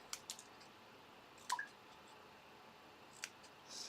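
Scissors snip out a stamped paper image for cardmaking, giving a few faint, sparse clicks and cuts spread across a quiet room, with no talk.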